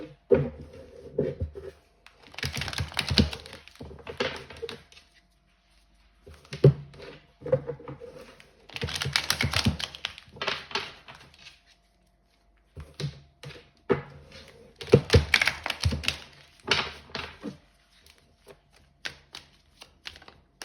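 Tarot cards pulled and shuffled from a deck for a pick-a-card reading, heard as bursts of crisp card flicks and soft taps that come and go in clusters with quiet pauses between, close and alone.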